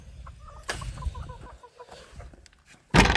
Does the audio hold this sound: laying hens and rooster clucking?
yes